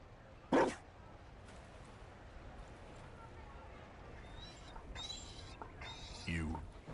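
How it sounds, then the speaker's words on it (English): A Mabari war dog in Dragon Age Inquisition gives a single sharp bark, then later a shorter yip, faint against quiet background ambience with a voice speaking. "You found a dog?"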